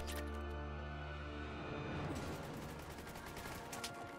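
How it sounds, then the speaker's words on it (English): Bursts of gunfire sound in the video game Mass Effect 3, with rapid shots and heavy rattling blasts over a humming tonal backdrop, fairly quiet overall. "Still shooting at me."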